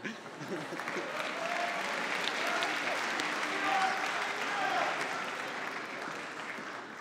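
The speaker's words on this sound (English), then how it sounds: "how about another round of applause?" Audience applause at a college athletics awards ceremony, a sustained, dense clapping crowd that swells slightly in the middle and continues through the whole stretch, with faint voices mixed underneath.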